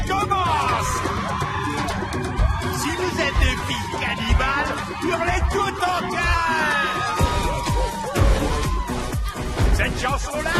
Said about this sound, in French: Si vous êtes des filles cannibales, hurlez toutes en chœur!